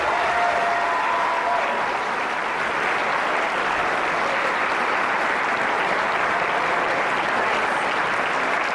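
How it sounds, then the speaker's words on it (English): A school senior recognition assembly audience gives a big round of applause for scholarship recipients, loud continuous clapping sustained evenly from start to finish. "Please give them a big round of applause."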